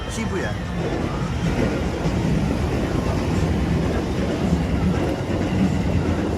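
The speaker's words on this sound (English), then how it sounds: "That's probably the Yamanote line there. Yamanote train going to Shibuya actually" Yamanote Line train rolling past near Shibuya in Tokyo, a steady loud rumble with rhythmic wheel clatter on the rails, heard from a city street with someone talking over it.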